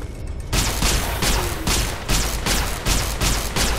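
Rapid bursts of weapon gunfire in Fallout: New Vegas, about eight loud shots in a steady rhythm after a brief quiet start, each crack close and heavy with low boom.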